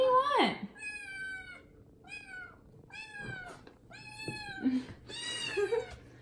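A cat meows repeatedly nearby in a kitchen, several drawn-out, insistent cries, with a few brief murmured words in between.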